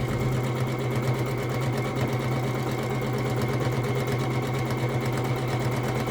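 A sewing machine stitches steadily through free-motion quilting of a pumpkin design, a constant, close, fast mechanical hum and rapid needle chatter running without a break.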